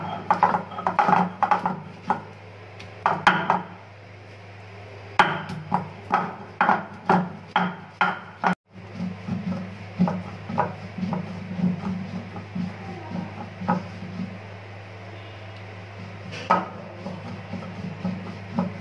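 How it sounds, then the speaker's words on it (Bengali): Jackfruit seeds being ground on a stone grinding slab with dried chili, a run of rhythmic knocking and rubbing strokes at close range, pausing briefly partway through and then resuming more softly. "দিয়ে দিচ্ছি কাঁঠালের বিচি বেটে নেব।"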